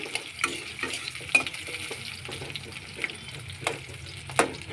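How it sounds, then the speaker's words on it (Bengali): Chopped onion frying in a pan, a steady sizzle broken by clicks and scrapes of stirring at irregular intervals, close and moderately loud with no talk. "এই দেখো, পেঁয়াজ অলমোস্ট ভাজা হয়ে গেছে"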